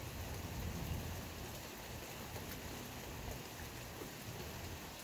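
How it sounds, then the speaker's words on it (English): Steady rain from a storm recorded on an old Samsung phone, a dense continuous hiss with low rumbling thunder underneath and no voices. "I'm using my fucking old Samsung phone to fucking record this storm."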